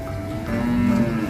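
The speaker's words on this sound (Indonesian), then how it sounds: "Sehat-sehat ya sapi ini." A cow said to have a spinal deformity gives a low, sustained moo that rises slightly in the middle, heard close by and alone.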